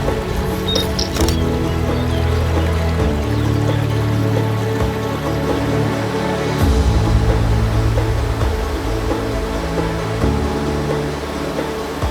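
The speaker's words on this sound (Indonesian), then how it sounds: "Air terjun itu terletak di daerah Makassar." A waterfall in Makassar gives off a steady, unbroken roar of rushing, splashing water, loud and close throughout, with no speech.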